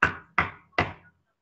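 Three firm knocks on a door, evenly spaced about 0.4 s apart, close and clear in a quiet room, with no voices.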